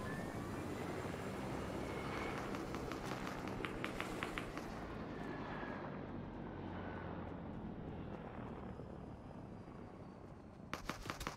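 A helicopter in the video game Fortnite gives a steady, fairly faint whirring drone that runs throughout, with a few brief clicking bursts and no speech.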